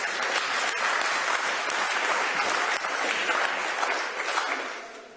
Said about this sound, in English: Applause is very unsettling for me, Mr Mayor.